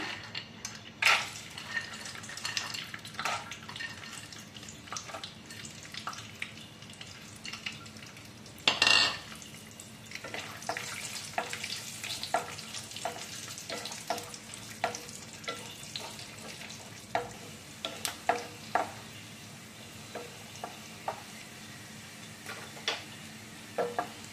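Cashews roasting in hot ghee in a pan, a continuous soft sizzle under repeated metal scrapes and clinks of a spoon stirring, close and fairly quiet, with one louder clatter.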